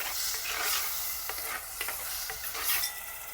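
Chickpeas stirred in a pot over a wood-fired stove, with a bright continuous sizzle and soft scraping stir strokes, close and steady.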